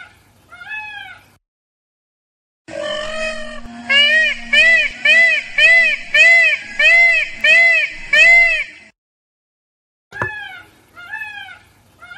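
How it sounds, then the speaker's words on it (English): A peacock gives a series of loud, repeated wailing calls in a rapid rhythmic run, preceded and followed by shorter single cries, heard up close with no talking. "A peacock made this sound."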